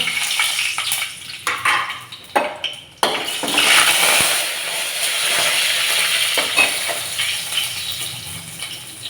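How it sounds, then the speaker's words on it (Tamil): Tempering spices and fennel powder crackle and sizzle in hot oil, a loud steady frying hiss with a few stirring clatters near the start. "எண்ணெய் சூடாகிடுச்சு. நம்ம தாளிக்கிற பொருளெல்லாம் அதில் போட்டுடலாம்."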